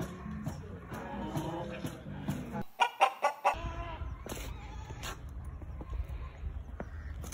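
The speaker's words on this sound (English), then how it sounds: "We got some chickens." Chickens on a farm cluck in short repeated bursts at moderate distance, with a brief louder run of clucks partway through over a steady low background rumble.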